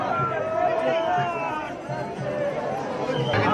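A big, packed crowd at Jejuri temple fills the air with close, continuous chatter and overlapping voices, a busy hubbub with no break.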